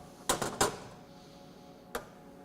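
A socket wrench loosens a CAT 40 taper tool holder clamped in a vise, giving a close, quick cluster of sharp metallic clicks followed after a pause by one more crisp click.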